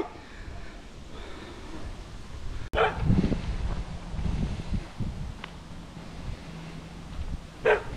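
Dogs bark outdoors on a windy walk near Wagga Wagga. A few scattered barks and yips, moderately near, stand out against a steady wind rumble.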